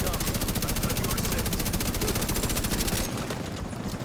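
Rapid automatic gunfire from a heroic-difficulty shooter video game, a dense, continuous stream of shots firing at enemy waves, loud throughout and thinning slightly near the end.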